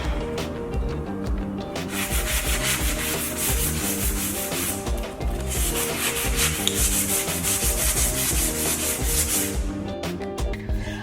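Steady sanding on a painted bentwood chair, a continuous abrasive rubbing with a rhythmic back-and-forth texture, close and fairly loud throughout without talk.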